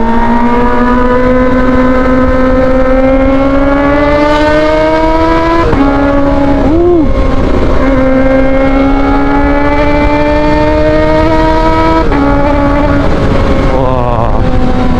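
A Kawasaki ZX25R motorcycle fitted with an Arrow Pro Race exhaust revs hard and close, its high-pitched four-cylinder wail climbing and holding, dipping briefly between throttle pulls, loud and continuous with no talk.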